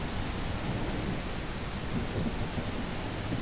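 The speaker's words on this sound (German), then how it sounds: "Interessant, dass das Gewitter um so vieles lauter ist." A thunderstorm in the survival game Mist Survival heard from inside a car: a dense, steady roar of rain and low rumbling thunder that fills every moment, loud and enveloping, with no voices.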